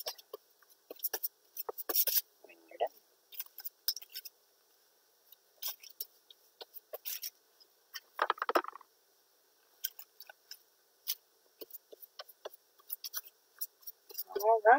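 Scissors snip through covering material for a bat wing prop in short, irregular bursts of close, quiet cuts, with brief pauses between them.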